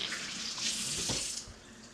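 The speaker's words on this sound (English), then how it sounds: "Rinse my hands." Kitchen tap water running steadily while hands are rinsed under it, a loud close splashing hiss that drops off sharply as the flow is cut.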